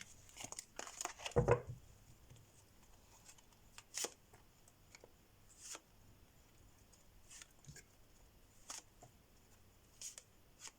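Soft papery tarot card shuffling and slides, a louder snap near the start, then scattered light flicks and taps of cards being laid down in a quiet room.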